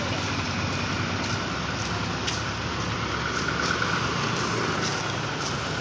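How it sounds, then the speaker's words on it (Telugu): Dense traffic rumble at Rayagada bus stand, with auto-rickshaw engines and passing vehicles forming a constant loud wash of noise, close and unbroken throughout. "బ్యాక్గ్రౌండ్ సౌండ్ కూడా ఇగ్నోర్ చేయండి, సరిగా కొంచెం ఎక్కువే వస్తుంది ఆటో సౌండ్లు అవన్నీ"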